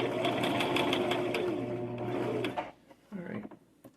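A sewing machine runs steadily, sewing reinforced stitching on a garment facing, loud and close for about two and a half seconds before stopping abruptly, followed by a short burst of handling noise.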